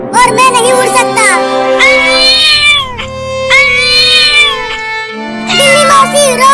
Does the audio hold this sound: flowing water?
no